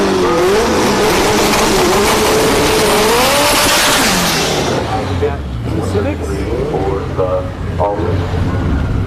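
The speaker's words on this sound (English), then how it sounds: "Well, pair of Civics going out of here, hatchback style tower side, inside." A pair of Honda Civic hatchbacks, one with a twin disc clutch, launch at Orlando Speed World drag strip, engines screaming loudly, then fading as they pull away, with an announcer talking over them.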